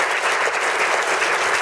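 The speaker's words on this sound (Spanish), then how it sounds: "vamos a darle un fuerte aplauso tanto a las autoridades de cultura como a los artistas" An audience at a community cultural event applauds loudly and densely, a steady wash of many hands clapping throughout the short span.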